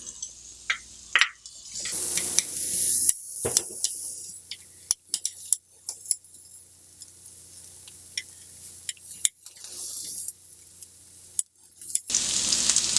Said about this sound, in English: I'm gonna put some oil in the pan and some onions.